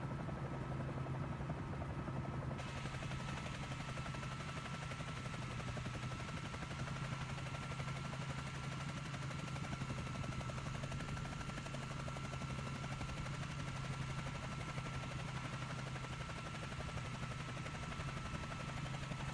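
Helicopter in Microsoft Flight Simulator 2024 on the SU6 beta build, a steady, loud rotor and turbine drone with a constant low pulsing hum running unbroken throughout, no talk.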